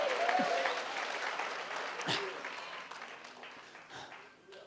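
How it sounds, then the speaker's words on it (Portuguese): A church congregation applauding during a worship service, a loud burst of clapping that slowly tapers off, with a voice speaking over it. "Pode aplaudir a ele mesmo se você crê nisso."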